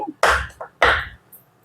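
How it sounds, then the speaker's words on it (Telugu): A cake tin of eggless chocolate cake batter being tapped to settle it: two firm, close knocks about half a second apart, with a lighter tap between them, each ending quickly. "కేక్ బ్యాటర్ని గిన్నెలో వేసుకున్న తర్వాత ఇలా ట్యాప్ చేసుకోవాలి"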